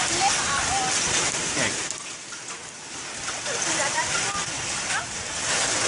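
Continuous clatter of hailstones hitting the ground and nearby surfaces in Suriname, steady and fairly close, swelling slightly louder toward the end.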